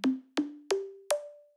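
Four plucked synth notes, each stepping slightly higher, trail off into a smooth, pitched reverb tail from an RV7000 Mark II Kitchen patch, fairly quiet and evenly spaced with the last note ringing longest.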